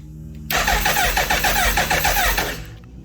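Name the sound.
Hayabusa engine starting after MaxxECU install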